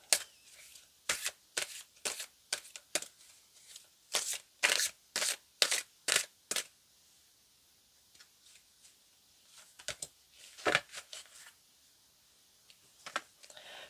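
Tarot cards shuffled and handled close by, in quick crisp flicking bursts, then a pause and a few more scattered riffles, with no voices.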